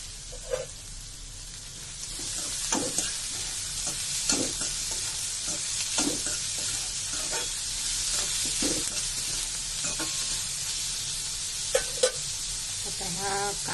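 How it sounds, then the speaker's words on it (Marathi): Finely chopped onions frying in oil in a pan while making fenugreek leaf bhaji, with a constant bright sizzle broken by repeated scraping and stirring clicks from a spatula, close and without talk. "आता कांदा मी थोडा तेलावर परतून घेणार आहे"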